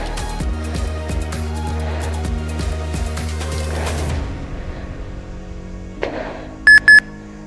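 A workout timer gives two short, loud electronic beeps near the end, after rhythmic music fades out.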